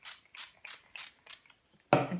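A spray bottle of stamp cleaning mist is pumped five times in an even rhythm, each short hissing squirt close and clear, followed by a louder sharper burst at the end.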